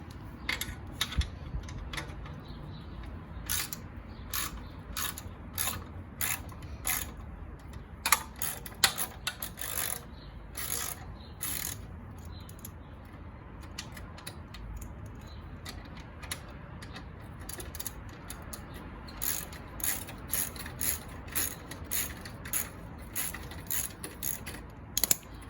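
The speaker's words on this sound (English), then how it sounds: "you need a 10mm ratchet." A 10mm ratchet loosens the exhaust clamp on a Kawasaki Z900 during a slip-on fit, giving quick bursts of close, crisp clicking that pause and restart throughout, with no talk.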